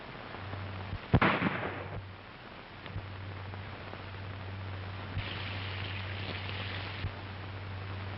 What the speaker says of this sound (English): Ever hear of ricochet bullets? The ones that bounce around the corner.